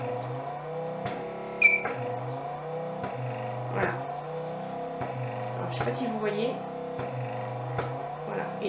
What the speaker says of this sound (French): Donc là vous entendez, il y a l'aspiration.